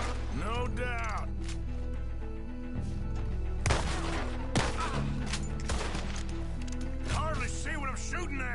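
Gunfire in Red Dead Redemption 2 rings out as several sharp shots spread across a night skirmish, layered under ongoing talk and background music.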